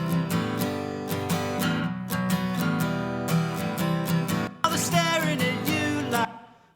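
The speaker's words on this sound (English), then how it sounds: "it picked up both the voice and the acoustic guitar" A live recording of a singing voice with strummed acoustic guitar, captured on one condenser microphone, steady rhythmic strums under sustained vocal notes, ending with a brief fade.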